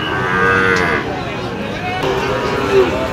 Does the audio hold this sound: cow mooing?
yes